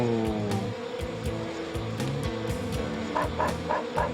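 Dogs bark and yip repeatedly in a video game, several quick barks over constant game sounds and music, with a run of sharper higher yaps near the end.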